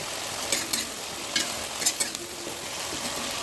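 Onion paste and ginger-garlic paste fry in hot oil for a homestyle egg curry, a steady close sizzle broken by a few sharp scraping stirs of the spoon, no voices.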